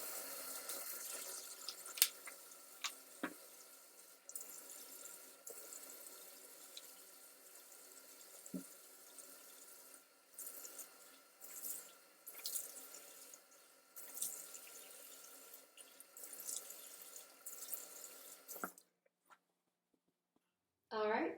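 Warm tap water runs steadily into a sink while a face is washed, with splashing and brief drips over about eighteen seconds before the flow stops and near silence follows.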